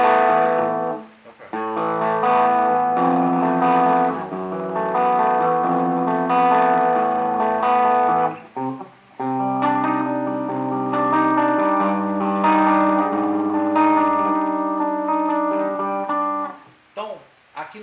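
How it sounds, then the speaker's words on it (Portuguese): Electric guitar played through an On practice amp with distortion engaged, bridge pickup and bass-heavy EQ, sustained chords ringing loud and saturated with brief gaps, no talking over it. "Daí no caso vou ativar a distorção aqui."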